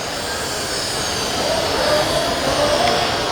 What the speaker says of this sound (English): Now, I'm going to use a high-speed Dremel tool